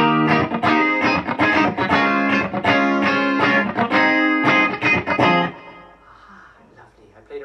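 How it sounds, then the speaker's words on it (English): Clean electric guitar played through an Axe-Fx preset with a little delay and reverb, very light chorus and no compressor: ringing chords and single notes form a steady, loud phrase that stops and leaves a short reverb tail. "Basic clean sound. Not much chorus, a little bit of delay, a little bit of reverb."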